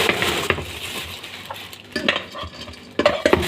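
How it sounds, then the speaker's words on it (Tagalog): Chicken katsu being cooked in a kitchen, with scraping stirs, utensil clinks and a soft sizzle coming in short uneven bursts close by. "Ang lulutuin kong pagkain nila ay chicken katsu."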